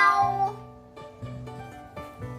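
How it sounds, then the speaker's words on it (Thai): A cat meows several times in a row, each call close and clear with a short pause between them, and there is no talking. "แมวนั่นเองนะคะ"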